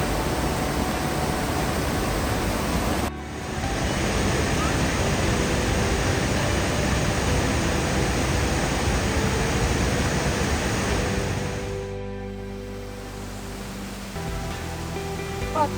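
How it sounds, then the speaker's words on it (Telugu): Rushing water at the Rheinfall waterfall in Switzerland, a steady, loud, dense roar that drops out briefly near the start, then eases and thins toward the end. "అసలు వాటర్ ఎంత సౌండ్ వస్తుందంటే ఇక్కడ చాలా ప్రెషర్గా వస్తున్నాయి వాటర్ మాత్రం"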